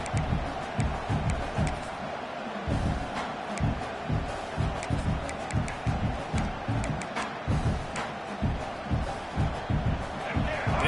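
A large stadium crowd at a college football game roars steadily, a dense, continuous wall of cheering with rhythmic surges and chanting pulses, heard from within the stands under commentator talk.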